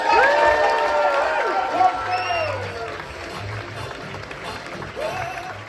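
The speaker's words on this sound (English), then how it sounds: "1, 2, 3, start the clap." An audience claps and cheers at a comedy club as a stand-up comic is brought on stage. Loud applause opens the clip, and voices call out over it before the clapping fades into murmur.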